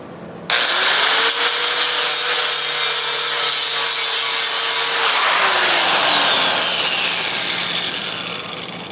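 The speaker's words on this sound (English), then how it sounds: "You're not grinding a whole lot of metal off of the rest of the fender" Power grinder working on a metal fender of a 1940s Harley-Davidson Servicar utility box, knocking nubs off the surface; a loud, steady abrasive whine starts abruptly and runs continuously, its pitch sagging slightly as load changes.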